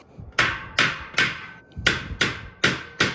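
Seven firm, evenly spaced knocks of a rubber mallet hitting a shelf of a Costco Gorilla Rack 5-shelf storage rack, each sharp at first and then briefly ringing, close by with nobody speaking.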